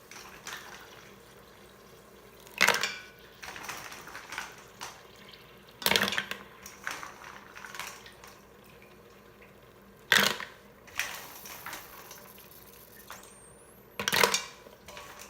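Mussels go by hand into a hot Instant Pot, four separate bursts of clattering shells and splashing about every four seconds, with quiet gaps between them.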